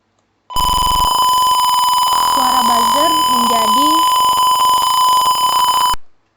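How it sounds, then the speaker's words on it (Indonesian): An embedded-system buzzer used as a motion-sensor alert holds a steady 1000 Hz beep for about five seconds, loud and unbroken, while a person talks over it. "suara buzzernya menjadi lebih rendah"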